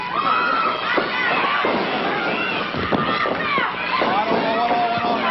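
A 1980 Mid-South Wrestling arena crowd yelling and cheering, a loud, continuous roar with individual shouts rising out of it, mixed with voices talking close by.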